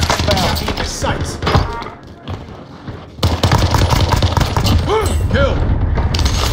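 Hostile gunfire in a video game: thuds and gunshots pop irregularly through a busy mix, with a brief lull midway before the shots return loudly, and voices talking over them.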